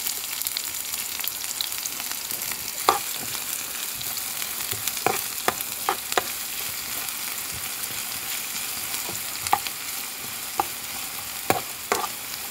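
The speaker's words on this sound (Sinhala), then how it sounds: "සුදු ලුණු ටික සම්මන් පාට වෙනකම් බැද ගන්න" Garlic frying in oil in a pan, a steady bright sizzle throughout with occasional sharp scrapes and clicks of stirring, close and alone with no voices.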